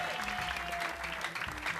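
Studio audience applause on a live Indonesian TV variety show, a steady wash of clapping with faint tonal music underneath, lasting under two seconds.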